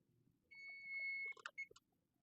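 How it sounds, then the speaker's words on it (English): Kitchen oven timer going off, a steady electronic tone holding for most of a second, followed by a few short irregular beeps, faint and alone. "All right, our timer is going off."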